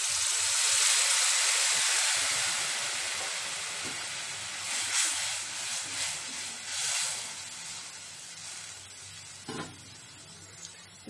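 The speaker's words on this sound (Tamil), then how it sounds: "கொஞ்சம் கொதிக்கட்டும்." A pan of Tamil vathal kuzhambu, a tamarind curry with dried turkey berries, bubbles and sizzles with a steady hiss, fading slightly over time, with a few soft pops and clinks.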